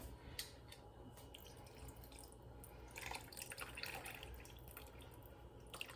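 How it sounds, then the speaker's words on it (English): Sauce trickles and splashes steadily as it is drained from canned tamales with a fork, over a low background hum, with small clinks and drips scattered throughout. "I'm going to drain the sauce from the tamales, canned tamales, and pour that in."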